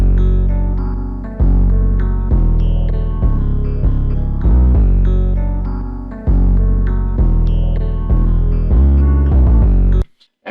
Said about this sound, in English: I wanted to drop the 808 on the track that sounds like this.